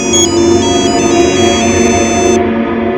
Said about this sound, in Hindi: पुलिस स्टेशन से फोन है